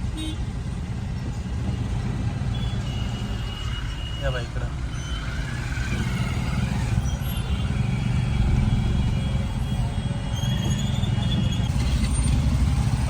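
A traffic jam clogs the Saykheda crossroads with cars and onion-laden tractors, producing a steady, loud rumble of idling and crawling engines with occasional high beeps, while a person talks over the noise.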